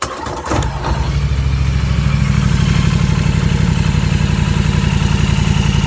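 2015 Polaris 1000 ATV quad with a charging fault, engine starting and then running at a steady rapid idle, loud and close, with a fast even pulsing throb and no talking.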